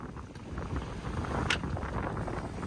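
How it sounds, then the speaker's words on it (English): A sailboat running under jib alone through the night in a rolling sea, heard as a steady rumble of wind and water with soft sloshing and creaks, moderately close, with no talking. "We'll be sailing through the night. Just sailing with the jib. It's a rolly ride."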